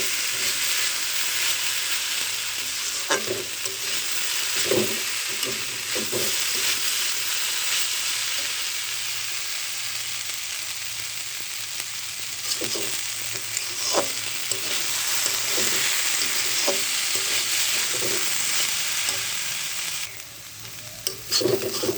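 Potato and onion bhaji frying in a pan gives a steady, close sizzle, with stirring scrapes and taps scattered through it and no voices.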